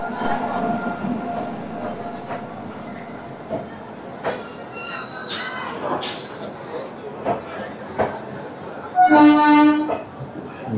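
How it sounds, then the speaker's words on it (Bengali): A train rumbles into a station on the Janakpur to Birgunj line with screeching wheels and clattering, ending in a loud horn blast, with a busy background murmur throughout. "ট্রেন ঢুকছে, এরপরে অ্যাসিওর হয়েছে যে হ্যাঁ ট্রেন ঢুকছে"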